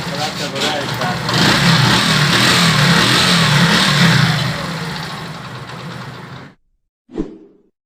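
A motorcycle engine runs and revs loudly after being kick-started without a spark plug, rising to a steady roar before dying away abruptly, followed by a short thump, with a voice speaking during the running engine.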